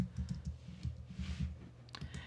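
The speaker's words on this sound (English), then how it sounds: "I can start typing my note." Close, soft clatter of fingers typing on a computer keyboard while writing a note, a steady run of quick irregular key clicks with a low thudding body, no talking.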